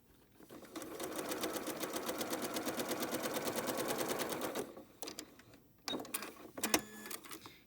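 A sewing machine stitches quilt pieces for a flying geese chicken block in one steady, rapid run of about four seconds, followed by quiet clicks and fabric handling as the work is turned around.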